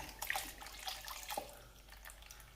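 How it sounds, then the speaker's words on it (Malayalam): Water poured into ground masala in a clay pot for a hotel-style fish curry, a faint, soft trickling and splashing at a distance. "ഗ്രേവിക്ക് ആവശ്യമുള്ള വെള്ളവും കൂടെ ചേർത്ത് കൊടുക്കാം."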